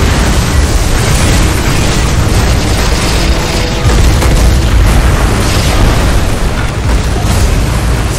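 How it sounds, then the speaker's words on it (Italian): A strong whirlwind storm hits a house, heard as a close, loud, roaring rumble that buffets the microphone continuously for several seconds, with no speech. "Si sentirà nel microfono sta tromba d'aria che ci sta colpendo."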